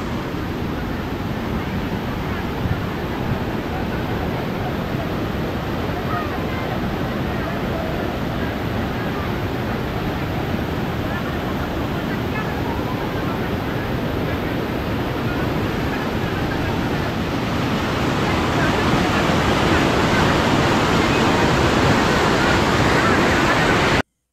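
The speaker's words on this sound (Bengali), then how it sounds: "আর এখানে দেখুন ঝর্ণা রয়েছে।" Waterfall near Basistha Temple in Guwahati, a dense, continuous rushing roar that stays steady and grows slightly louder toward the end.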